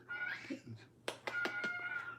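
Kittens meowing indoors, several short high cries in a quick uneven series, fairly close, with a voice speaking under them at the start.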